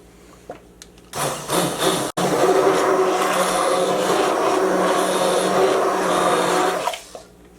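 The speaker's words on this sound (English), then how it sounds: "don't pull your immersion blender out while you still have it running" Immersion blender whirring loudly and steadily through a carrot ginger maple bisque in a small kitchen, running for several seconds after a brief start, then cutting off.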